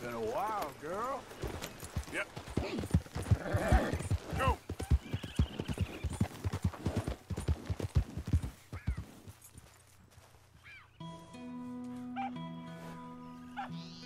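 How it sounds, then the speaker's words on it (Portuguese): A horse in Red Dead Redemption II gallops with rapid, rhythmic hoofbeats, loud and close, while someone talks over it; the hooves fade out and give way to quieter ambient game sounds near the end. "Vá, cavalo, anda-me buscar."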